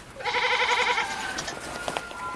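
A goat on a homestead lets out one loud, wavering bleat up close, followed by a few quieter shuffles and rustles.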